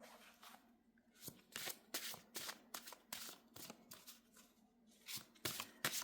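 A deck of oracle cards shuffled by hand, close up, in a steady run of crisp riffling bursts with slight gaps, quiet room and no talking.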